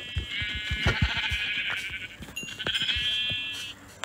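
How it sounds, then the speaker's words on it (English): Sheep bleating in a video game, a couple of long wavering bleats close by over a steady backdrop of soft rhythmic thumps. "I just found another sheep right in front of me."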